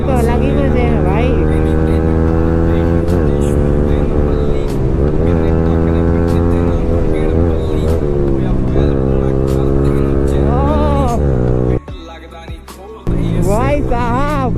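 Yamaha R15 V4 motorcycle ridden fast on a main road in the morning, its engine loud and close with a rising and falling revving tone throughout, dipping briefly near the end before roaring back.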